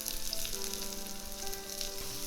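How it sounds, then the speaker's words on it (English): Finely sliced onion fries in melted ghee in a mud pot, a soft, steady sizzle with faint crackles and a light stir, fairly quiet and with no talking. "Once the ghee melts, add the finely sliced onion."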